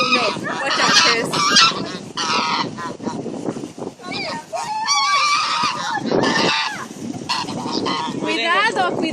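Geese or ducks being fed by a family outdoors, honking loudly and repeatedly in a harsh, close chorus while people talk over them.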